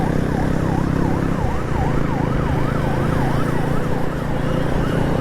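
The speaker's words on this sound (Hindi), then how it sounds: "मेरे राइट साइड पे ये एम्बुलेंस जो बेचारे निकलने के चक्कर में लगी हुई है" An ambulance siren wails in a rapid, repeating up-and-down sweep through congested street traffic, loud and continuous over the rumble of engines, with no talking.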